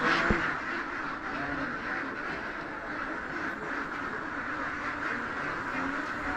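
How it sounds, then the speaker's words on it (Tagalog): Layer ducks on a farm in Victoria, Laguna, producing a continuous, dense chorus of quacking from a large flock, with steady noise throughout and brief talk at the start. "Dami yung itik."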